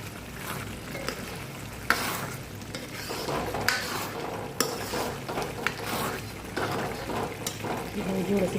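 Gajar (carrot) sweet stirred in a pan over a low gas flame, with a continuous soft sizzle and scraping strokes under a voice speaking Punjabi.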